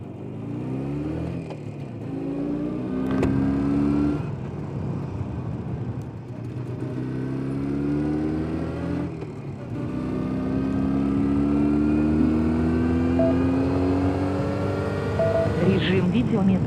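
A Jawa 350/638 motorcycle rides through town, its engine rising in pitch several times as it accelerates through the gears. The engine runs loud and steady up close, and there is no talk.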